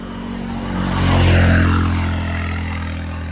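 A camera drone buzzes as it flies past outdoors, its droning hum swelling louder toward the middle and then easing away, with no voices.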